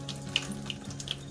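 Steady warm water running from a tap while feeding a sourdough starter, a soft continuous stream with a few faint clinks.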